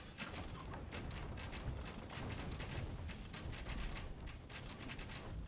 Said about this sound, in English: Georgians, they do get hand cannons.